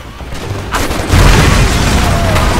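Gunfire in the game Stranglehold builds into a loud, dense roar of shots and booms. It starts from a quieter background and then continues as a sustained wash of noise.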